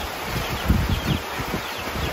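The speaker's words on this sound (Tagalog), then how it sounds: "Ala, lakas ng hangin." Gusts of wind buffet and rustle through leaves, a continuous breathy roar with a few stronger surges.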